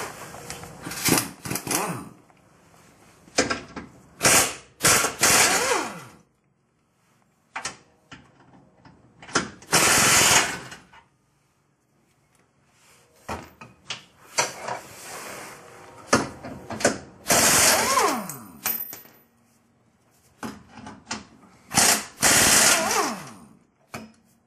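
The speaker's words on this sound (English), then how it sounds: "while we take out the 6 bolts that are holding the skid to the frame" A ratchet backs out the six skid plate bolts holding a transmission skid to the frame of a Jeep Wrangler TJ, sounding as repeated bursts of rapid clicking separated by short silences, close and fairly loud.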